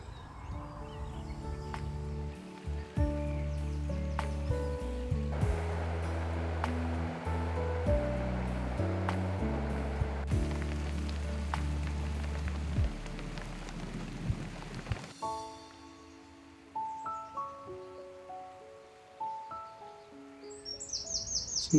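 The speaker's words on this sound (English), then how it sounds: "It's still raining, but it's eased off a bit now." Steady rain falls outdoors at a UK nature spot with a tern raft, a soft continuous hiss beneath prominent music with a few faint bird calls.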